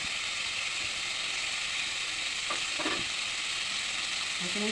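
Potatoes and figs fry in a pan with salt, turmeric and chili-garlic-ginger paste, a constant hissing sizzle with a few soft scraping stirs in the middle.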